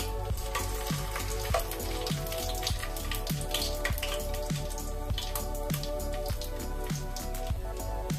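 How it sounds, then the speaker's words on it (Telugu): Whole garam masala spices frying in hot oil in a pan for prawn biryani, a steady soft sizzle with crackling pops and drips over a low hum. "ఆయిల్ వేసాను, ఆయిల్లో హోల్ గరం మసాలా వేసుకుందాం."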